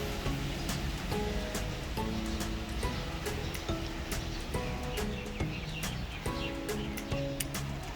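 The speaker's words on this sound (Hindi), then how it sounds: "बारिश हो रही है।" Steady rain falls in Lahore, a continuous broadband wash of drops pattering on leaves and surfaces around a jamun tree, with faint bird calls scattered through and no speech.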